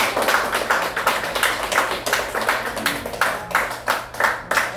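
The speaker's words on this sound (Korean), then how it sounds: "박수로 함께" A group applauds to honor a gift presented at an academy gathering: steady, dense clapping with a rhythmic pulse, fairly close and continuing throughout without talk.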